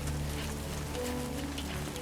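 Steady rain falls in Death Stranding 2, a dense close patter of drops on surfaces under a low hum, continuous and even for a couple of seconds with no talk.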